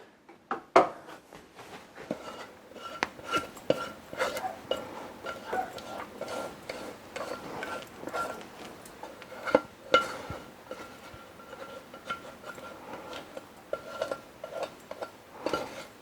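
A utensil scrapes and clinks against a container while pumpkin spice jello is spooned out, a steady run of close, small scraping strokes and taps with sharper knocks scattered throughout, no voices.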